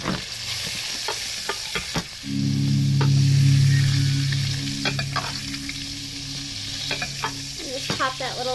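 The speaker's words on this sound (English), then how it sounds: "I'm going to grab a big spoon and start spooning the butter over the whole slab of meat" A ribeye steak sizzling in a pan while butter and rosemary are spooned over it: steady close frying with repeated spoon clinks and scrapes, plus a swelling low rumble in the middle.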